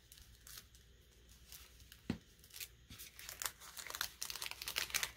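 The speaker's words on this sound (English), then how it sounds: "I'm going to tear this excess off" Excess craft paper torn by hand, a rough ripping and crinkling that builds toward the end, close up with a few sharp rustles and no speech.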